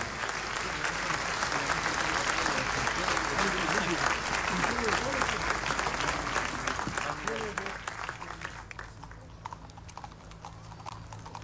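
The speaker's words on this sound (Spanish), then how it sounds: "Los despedimos con un fuerte aplauso" Steady applause from a crowd at Chile's 2015 military parade, mixed with horse hooves clip-clopping, with a voice speaking over it; the clapping thins toward the end.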